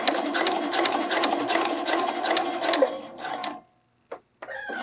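A close sewing machine stitches hook and eye tape on a bralette with a fast, rhythmic needle chatter for about three seconds, slows and stops, then a soft click follows and a voice starts talking.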